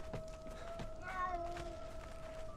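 A cat meows close by in a house during a Conan Exiles gaming session, one drawn-out, wavering call over steady game background noise, with no voices.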